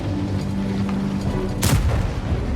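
A single tank gun shot fires in a Tiger-Maus tank battle video game on a steppe map, a sharp loud blast that cuts through a steady rumble of in-game engine and ambient noise.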